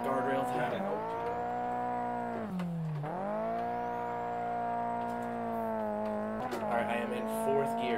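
A small SR-engined car in a racing game revs hard and bogs in third gear, with steady loud engine drone and pitch sweeps dropping and rising as it struggles; a person talks over it.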